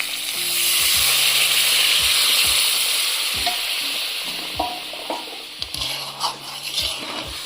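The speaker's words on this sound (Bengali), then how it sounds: "ভালো করে নেড়ে মশলাটা গুলে নিচ্ছি" Koi fish masala stirred in a pan with water just added, a loud bubbling sizzle at first that fades as a spoon scrapes and knocks against the pan in short strokes.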